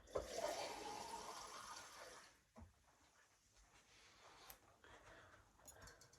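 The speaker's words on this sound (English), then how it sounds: "I'll just fill this up with water" Water splashes and runs into a tin for a couple of seconds, fairly close, then stops, leaving faint rustling and handling noises.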